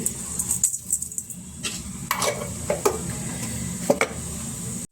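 Cumin seeds and other spices dropped into hot oil for a Karnataka kaalu palya, giving a steady close sizzle with scattered stirring clinks and scrapes of a utensil against the pan, ending abruptly.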